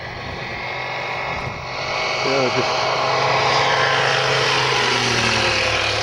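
A radio-controlled model airplane at a model flying club drones overhead, its buzzing engine rising and holding loud and steady while people talk nearby.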